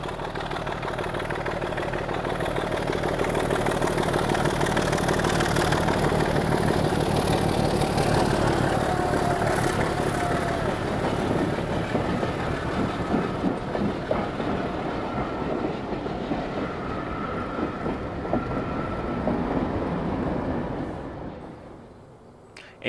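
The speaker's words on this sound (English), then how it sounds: "we hear the raspy exhaust note from her 6-cylinder Sulzer power plant as D7612 climbs past the foot crossing at Creech Bottom" Class 25 diesel D7612 with a six-cylinder Sulzer engine climbs past a foot crossing at Creech Bottom, its loud, raspy exhaust roaring steadily before fading away at the end.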